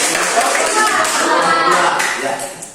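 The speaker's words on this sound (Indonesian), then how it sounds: "Mari tepuk tangan dulu." Students in a classroom break into applause, a dense, steady wash of many hands clapping at close range for a few seconds, fading slightly at the end, with a few voices mixed in.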